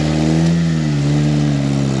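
An off-road vehicle engine revs steadily and loudly up close as it tackles a rock-crawling trail in a rainforest, a sustained mid-pitched drone that rises slightly, with no talking.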